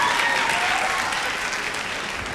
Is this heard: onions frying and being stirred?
no